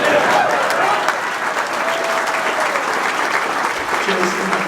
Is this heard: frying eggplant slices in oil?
no